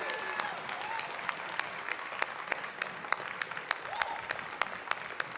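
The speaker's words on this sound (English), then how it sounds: "let's give our platform party and all of you out there today, the graduates, a big round of applause." Audience applause at a commencement ceremony honoring graduates and the platform party, a steady wash of many hands clapping with sharp individual claps standing out, moderately distant and sustained throughout.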